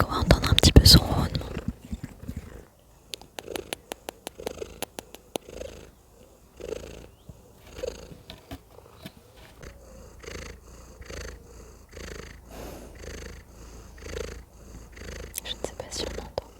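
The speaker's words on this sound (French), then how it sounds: "Est-ce qu'on va entendre un petit peu son ronronnement?" A cat purrs softly and rhythmically close to the microphone outdoors, a low steady rumble of repeated breaths with a quiet whispering voice over it and a louder rustle at the start.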